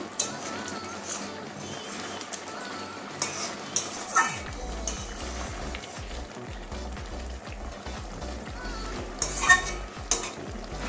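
Garam masala being stirred into a Bengali fish roe curry (machher dimer kalia) in a pan, with steady scraping of the spoon and clinks against the pot over a soft sizzle, no talking.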